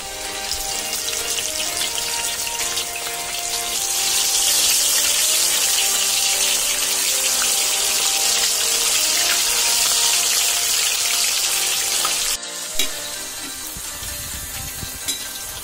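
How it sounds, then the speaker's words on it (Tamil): Broccoli for Broccoli 65 deep-fries in hot oil in a kadai with a loud, steady, close sizzle that swells midway and briefly breaks off before settling again. "இப்போ ப்ரோக்கலி நல்லா ஃப்ரை ஆயிடுச்சு."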